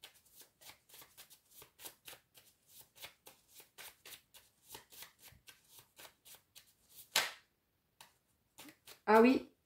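Tarot cards are shuffled in quick, rhythmic riffles close up, a steady run of soft card flicks, ending with a couple of louder swishing slides as the deck is squared.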